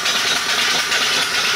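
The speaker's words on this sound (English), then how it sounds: "With the engine running" A Clint steam engine runs on a steam boiler, giving a loud, steady hissing chuff with a continuous mechanical rattle, close by and without talking.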